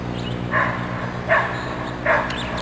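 A dog gives three spaced yips or short barks outdoors, moderately near and fairly loud over a steady background hum, with no talking.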